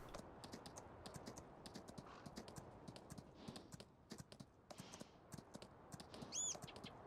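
Steady clip-clop of horse hooves trotting in a quick, even rhythm in the video game Farming Simulator 19, with faint bird chirps and a brief whistle-like tone near the end.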